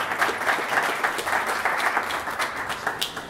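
Audience at a cannabis seed bank seminar gives a round of applause, dense continuous clapping from a seated crowd, fairly even and slightly distant, with no talk over it.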